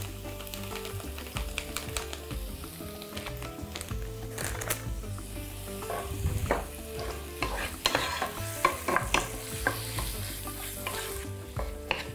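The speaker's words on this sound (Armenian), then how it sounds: "Մինչ սոխը տապակվում է" Onion seasoned with salt, sugar and a little turmeric frying in a pan, with a steady close sizzle, stirring and scraping clatter, and occasional sharp utensil taps throughout.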